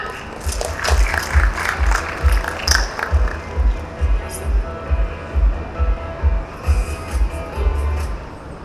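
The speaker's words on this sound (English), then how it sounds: "Everybody please give a huge round of applause to Mr." Audience applause for a speaker at Crypto Expo Dubai 2023, a steady crowd clapping filling the hall with a pulsing rhythm throughout, fairly loud and close, with no one talking over it.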